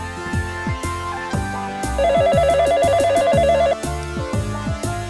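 An outgoing phone call rings through a handset: repeated electronic ringback tones with a fast warbling tone midway, clear and unaccompanied by talk.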